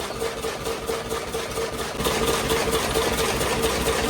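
An engine on a dairy farm idles steadily and loudly nearby while water is poured into it, a continuous rumbling drone that grows slightly louder partway through.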